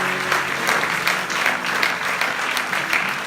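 Steady, loud applause from a church congregation of many people clapping continuously throughout.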